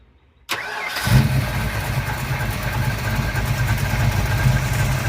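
A car engine cranks and catches after a fuel delivery fix, firing up sharply and settling into a steady, rumbling idle close by, with no voices over it.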